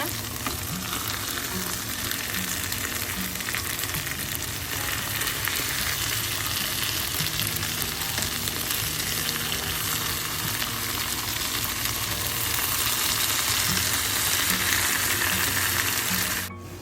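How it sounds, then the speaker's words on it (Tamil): Sardines coated in masala fry steadily in a hot pan, a dense continuous sizzle and crackle with faint stirring clicks, close and loud throughout with no talking. "நான் மற்ற சைட் இதை திருப்பி விட போகிறேன் இந்த மீனை."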